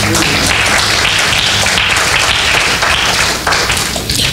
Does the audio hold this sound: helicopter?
no